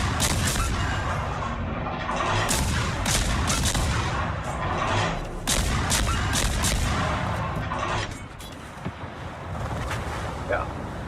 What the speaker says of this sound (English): See how the enemy team is shooting me?